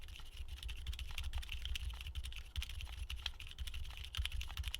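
Fast typing on a keyboard fitted with silent linear switches, a dense run of soft, muted keystrokes with occasional slightly louder hits, close up and quiet, with no talking.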